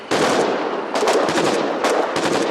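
Sustained machine gun fire in the Foxhole war game, aimed at trucks coming up a hill; rapid, loud bursts rattle continuously with brief gaps, close and dominant, no talk over it.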